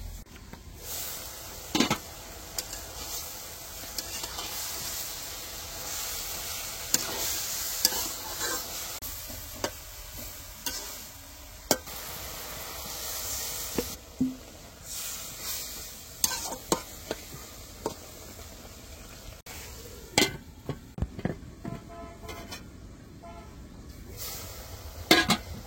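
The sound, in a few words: frying bathua greens (shak) in a pan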